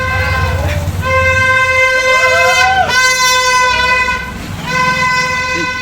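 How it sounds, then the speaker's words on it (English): Festival horns blown by a crowd during a Rang Panchami procession in Indore give long, loud, steady honking tones that stop and start again. Street crowd noise runs underneath. "There are people just going around with horns"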